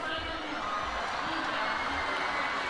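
Badminton arena crowd at a Yonex Open Japan quarter-final cheering and whooping after a player tosses his shirt to a fan, a continuous distant roar with a commentator talking over it.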